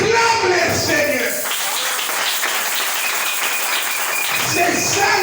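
Applause rising in a church congregation acclaiming the Lord, a steady wash of clapping from many hands that fills the room, mixed with voices speaking and calling out.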